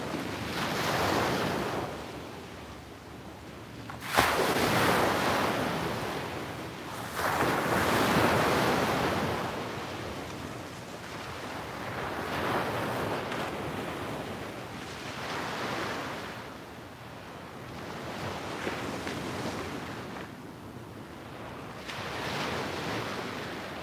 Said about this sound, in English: soak in these beautiful colors and the sounds of the waves